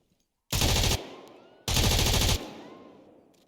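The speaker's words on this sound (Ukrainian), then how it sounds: "Хто там стріляє?" Two loud, close bursts of automatic gunfire in the shooter game Zero Hour, each a rapid rattle lasting under a second, with ringing decay after each burst.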